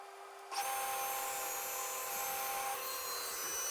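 A power saw cuts reclaimed wood pieces for end table legs, starting abruptly after a short silence and then holding a steady, loud, close whine throughout, with no talking.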